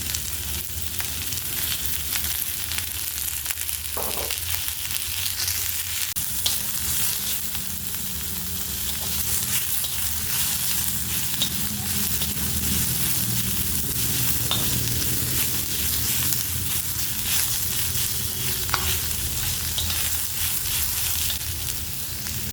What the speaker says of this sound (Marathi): कांद्यासाठी पण मी थोडं तेल टाकून घेणार आहे अजून